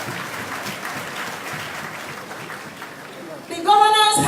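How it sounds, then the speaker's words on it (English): Crowd applause for the governor at a loan disbursement event for civil and public servants, steady clapping that gives way near the end to a louder burst of amplified sound with a voice. "I think the governor deserves a round of applause."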